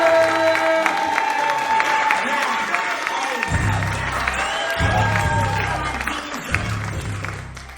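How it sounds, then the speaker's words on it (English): Comedy club audience at the Laugh Factory applauding and cheering for a stand-up comedian, dense sustained clapping with whoops and shouts, while an amplified voice talks over it at intervals. "So I need y'all to start clapping right now."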